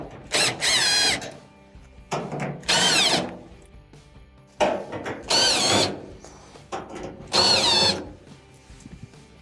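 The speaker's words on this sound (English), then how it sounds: "there are a couple of Phillips screws that have to be taken out" A power driver backs Phillips screws out of the bulkhead of an LG dryer, with four loud whirring bursts of about a second each, separated by quieter clicks and handling noise.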